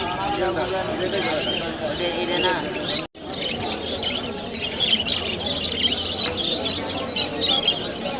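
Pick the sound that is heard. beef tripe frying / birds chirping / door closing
birds chirping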